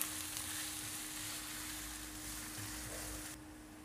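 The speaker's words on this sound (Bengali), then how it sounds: "পেঁয়াজ কুচি হালকা বাদামি করে ভেজে নিব।" Chopped onions fry in hot oil with a steady, close sizzle and a soft constant hiss that continues throughout, with no talking.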